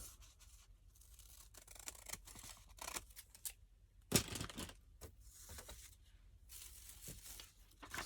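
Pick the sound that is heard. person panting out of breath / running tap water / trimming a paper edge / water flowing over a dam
trimming a paper edge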